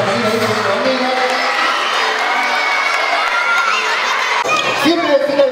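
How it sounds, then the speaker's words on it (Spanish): Children's event crowd cheering and shouting, a sustained loud mix of young voices and whoops with some applause, rising again near the end. "un fuerte aplauso"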